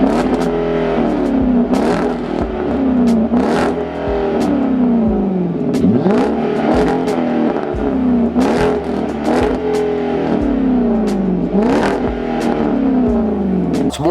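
A Genesis V8 with its exhaust cutouts open accelerates hard in repeated pulls, each rising engine note building loud and close before dropping back at shifts, with no talking.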